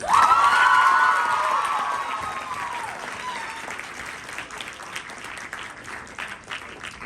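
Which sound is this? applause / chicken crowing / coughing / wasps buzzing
applause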